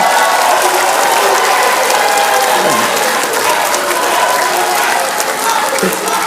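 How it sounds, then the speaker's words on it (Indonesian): Applause from the audience at an Indonesian gubernatorial debate for the two governor candidates, a loud, dense and steady clapping that fills the whole stretch without pause. "kita beri tepuk tangan untuk kedua calon gubernur"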